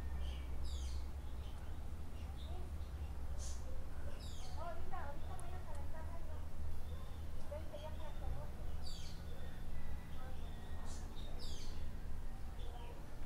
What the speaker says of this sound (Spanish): Que se escuchen mejor las aves.